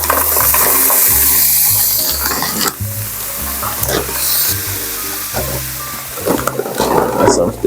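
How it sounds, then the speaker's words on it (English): Loud wet sizzling and bubbling as Bertolli chicken broccoli fettuccine Alfredo is poured into a hot skillet, with clattering and stirring, over a steady low rhythmic musical backing. "And now all we have to do is pour it into the skillet."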